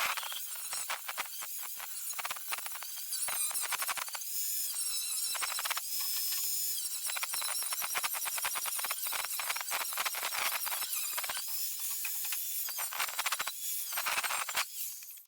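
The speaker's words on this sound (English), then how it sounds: "take a grinder to it, back to there" An angle grinder with a 40-grit flap disc works the steel boot lid of a Ford Escort MK1 in a restoration shop, giving a continuous harsh, high-pitched grinding squeal with shifting pressure for about fifteen seconds, close and alone.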